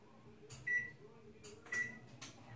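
Two short electronic beeps from an oven's control panel as it is set to preheat to 350 degrees, clear and close over a quiet kitchen background.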